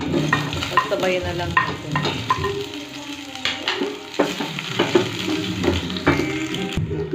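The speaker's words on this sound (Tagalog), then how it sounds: "Igisa na natin itong sibuyas, bawang." Onion and garlic sauté in hot oil for squid adobo, with a close sizzle broken by frequent clattering stirs in the pan while a person speaks briefly over it.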